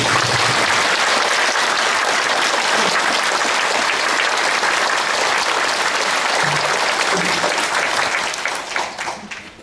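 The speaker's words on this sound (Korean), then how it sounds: "다시 한 번 더 큰 박수 한 번 부탁드립니다." A large crowd applauds loudly and continuously at a county governor's inauguration ceremony in Uiryeong, South Korea, the sustained clapping tapering off in the final second.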